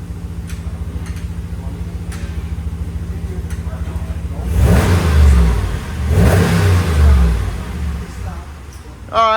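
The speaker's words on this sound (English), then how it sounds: "Hop in and rev it up. We gotta give him a little rev test here." A 5.7L Hemi V8 engine in a 2019-2022 Ram 1500 truck idles with a low rumble, then revs hard twice in loud surging bursts before settling, with a voice briefly heard at the end.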